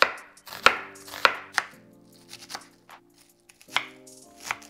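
A knife chops an onion on a board for Mexican-style hot dogs: about six crisp, irregular chopping strikes, close and clear, with short quiet gaps between them and no speech.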